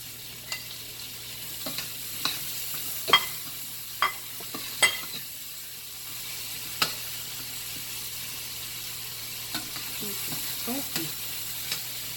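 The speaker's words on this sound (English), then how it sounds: "Let me add the tomatoes." Tomatoes stirred into a pot of sizzling pot roast, a low steady fry hiss underneath with scattered sharp spoon scrapes and clicks against the pot, close and fairly quiet, no talking.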